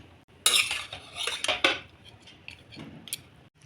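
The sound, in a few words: mixing roasted peanuts into coriander rice in pan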